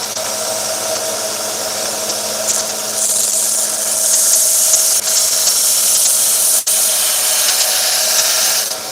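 Continuous loud hissing rasp of a 1x30 belt grinder as steel is held freehand against the belt to take off forge scale, with pressure swelling midway and one short break near the end.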